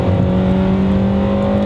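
A Honda Integra Type R engine runs loud and close at high revs, a strong steady drone with sustained tonal harmonics holding without a break, no talking.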